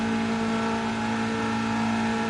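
Gran Turismo 7 race car engine held high near 7,000 rpm, a loud, steady whining drone that stays constant in pitch throughout, with no voices.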